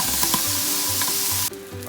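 Cajun sausage sizzles loudly in a hot pan, a steady bright hiss broken by short stirring scrapes, close up and with no voices.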